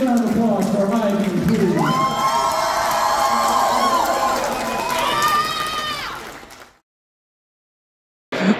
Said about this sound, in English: Big round of applause for Eigen.